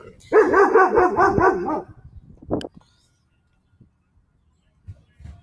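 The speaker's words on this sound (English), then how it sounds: "before the dog started barking" A dog barks in a quick, close run of loud, tonal barks lasting under two seconds, followed by a single short yip and near silence.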